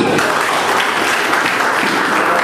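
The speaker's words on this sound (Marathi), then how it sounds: "सगळ्यांनी टाळ्या वाजवा" Sustained crowd applause at a Mumbai political rally of mill workers, dense steady clapping filling the whole stretch with faint voices mixed in.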